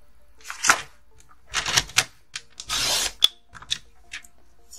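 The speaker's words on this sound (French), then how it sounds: "je coupe" Paper being cut for a straw-bound scrapbook photo album: several separate rasping strokes with short sharp clicks, close and fairly loud, broken by brief quiet gaps and no speech.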